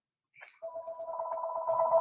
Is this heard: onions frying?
no